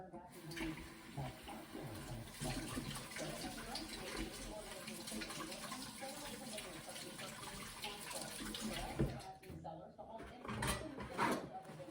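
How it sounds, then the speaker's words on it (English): A kitchen tap runs steadily as greasy hands are washed under it, the water splashing into the sink, with a few knocks and a voice speaking faintly now and then. "Wash the grease off my hands"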